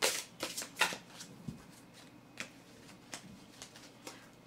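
Tarot cards shuffled by hand, a quick flurry of crisp riffling flicks at first, then sparser soft snaps and taps, close and fairly quiet.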